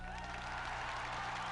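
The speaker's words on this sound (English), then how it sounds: "In St. Peter's Square, crowds cheered his rallying cry for freedom." A large crowd in St. Peter's Square cheering and applauding, a dense, continuous roar of many voices and hands at a distance.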